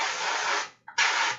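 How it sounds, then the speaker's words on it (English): Aerosol spray paint hisses onto the underside of an Imperial Fists Space Marine miniature in two close bursts, a long steady hiss, a brief pause with a short sputter, then another strong burst. "spray the underside of the arms, the underside of the shoulder pad"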